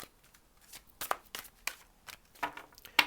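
Several crisp riffles and snaps of tarot cards being shuffled at irregular intervals, close and fairly quiet, with soft handling noise between them and no talking.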